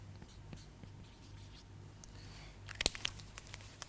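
Marker or chalk writing on a board during a maths lecture, with faint scratchy strokes over low room hum and a brief burst of sharper scraping strokes near the end.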